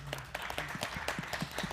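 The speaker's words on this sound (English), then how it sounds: "If you'd like to give them a round of applause" Conference audience applauding the speakers: a small group's quiet, scattered hand claps, sparse and uneven, lasting under two seconds.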